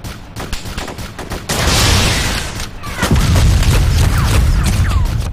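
Gunfire in the video game ArmA 2, rapid loud volleys of shots that give way to a heavy, sustained roar of firing and booms close by, with excited voices shouting underneath.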